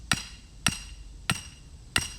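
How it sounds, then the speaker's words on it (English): Four sharp metallic hammer strikes drive a metal pin into the ground to make holes ahead of rebar. The blows are evenly spaced about half a second apart and ring close and fairly faint, with quiet outdoor air between them. "Get some sort of pin or something that's larger than the rebar and hammer into the ground."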